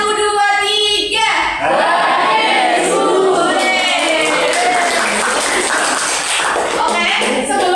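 A classroom group claps together in a rhythmic count game led by a teacher, a dense burst of hand claps filling the room with voices mixed in throughout.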